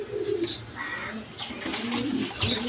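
Close, steady cooing from three-bar red Danish pigeons, several low throaty calls following one another in a continuous murmur, with no voices present.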